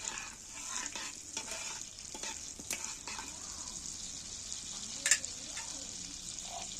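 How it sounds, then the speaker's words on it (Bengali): Whole cumin seeds fry gently in oil while being stirred slowly, a soft steady sizzle with light spoon scrapes and one sharp clink, heard quietly and close without speech. "জিরেটাকে আস্তে করে হালকা করে একটু নেড়ে ভেজে নিচ্ছি"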